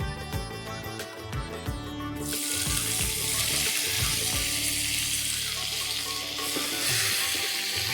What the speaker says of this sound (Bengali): আমি তার মধ্যে এই টমেটো আর আদা কুড়োনো একসাথে দিয়ে দেব।